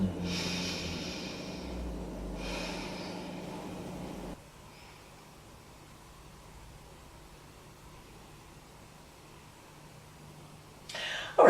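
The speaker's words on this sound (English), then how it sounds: "Deep breath in and out." Slow, deep yoga breathing close to the microphone, a long airy breath for the first few seconds followed by a quiet stretch of soft room hiss, then a brief louder rush at the very end.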